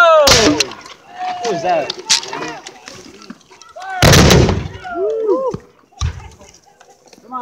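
Civil War reenactment battle with a loud volley of gunfire and sharp bursts at several points, mixed with shouting voices and commands from the reenactors nearby.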